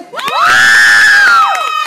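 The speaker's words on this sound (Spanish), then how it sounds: "Ándale. Aplausos para él." A single loud, drawn-out cheer rises, holds and falls away as an audience at a game show celebrates, brief and close.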